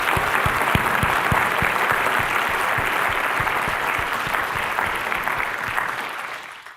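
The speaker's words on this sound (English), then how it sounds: "Let's give them all a big round of applause" A large audience applauds at the close of an event, a dense, sustained wash of many hands clapping that stays loud throughout and then tapers off near the end, with no talking over it.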